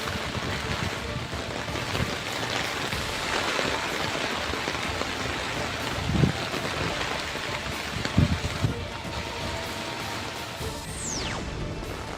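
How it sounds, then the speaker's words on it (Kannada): Heavy monsoon rain in the Malenadu hills of Karnataka pours steadily in a dense, continuous hiss that holds for the whole stretch, with a couple of brief low thumps partway through and no speech. "ಮಲೆನಾಡು ಭಾಗದಲ್ಲಿ ಮಳೆಯ ಆರ್ಭಟ ಹೆಚ್ಚಾಗಿದ್ದು"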